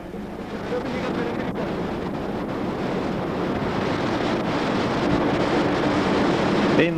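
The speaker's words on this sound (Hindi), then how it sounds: "गंगा को एक विशाल झरने की तरह गिरते हुए आप यहां देख सकते हैं।" The Ganga falls like a huge waterfall at Gangotri, a dense, steady roar of rushing water that holds evenly loud for the whole stretch, with no voices heard over it.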